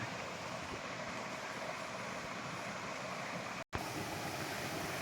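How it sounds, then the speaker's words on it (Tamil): A waterfall and mountain stream on the hill at Srikalahasti, a steady, broad rush of flowing water heard at moderate distance, with a brief dropout near the end. "அந்த அருவி, இந்த நீரோடை வந்து பார்த்திங்கன்னா இந்த சைட்லேருந்து தான் வருது."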